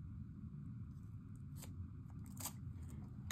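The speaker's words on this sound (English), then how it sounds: "I'm just going to cut from here to here to the corner" Scissors snip through paper while trimming a piece for a Stamperia Savana baby scrapbook album, a few close, crisp cuts over steady low background noise.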